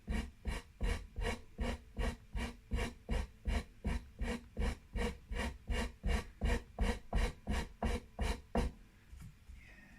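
A narrow, harsh-grit file scrapes on a Harley Benton Telecaster guitar, about twenty even back-and-forth rasping strokes in steady rhythm, close and fairly loud, stopping near the end with no talk.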